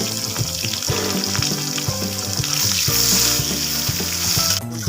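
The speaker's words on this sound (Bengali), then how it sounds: "আলুগুলো ভাজা হচ্ছে আস্তে আস্তে" Potatoes and chopped onion fry in a pan with a steady, close sizzle that runs throughout, accompanied by a melodic tonal background.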